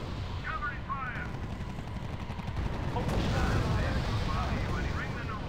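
Dense, continuous gunfire and artillery rumble in the World War II strategy game R.U.S.E., loud and unbroken across the whole stretch, with faint voices mixed in.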